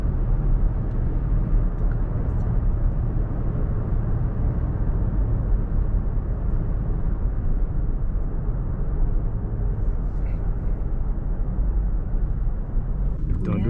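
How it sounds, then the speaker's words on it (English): Steady wind roar and road rumble inside a moving 2020 Toyota Tacoma TRD Sport pickup, a constant broadband whoosh filling the cab throughout with no change in level. "the wind noise is a little bit annoying"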